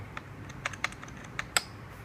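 Keys on a Signo E-Sport Pegasu KB-739 gaming keyboard clack in a sparse, uneven run of crisp taps, close up and fairly quiet with no talking.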